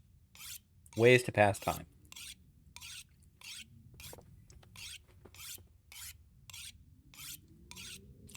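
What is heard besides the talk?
sharpening a tool in video game The Long Dark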